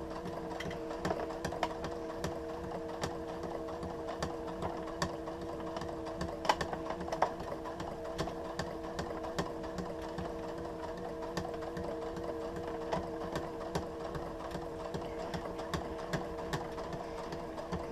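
A sewing machine stitching fabric for a pacifier leash, a steady close mechanical whir with rapid needle ticks running without pause, no talking.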